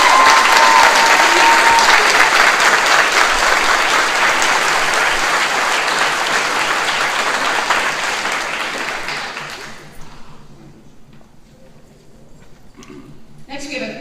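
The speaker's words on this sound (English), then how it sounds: "Please give a big round of applause and appreciation." Audience applause at a veteran and active duty military recognition ceremony, a dense, sustained round of clapping from a crowd that holds steady for several seconds and then tapers off into scattered claps.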